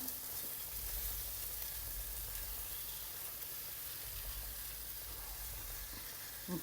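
Chicken curry with added hot water sizzles and hisses steadily in a hot pan, a continuous quiet frying sound with no voices.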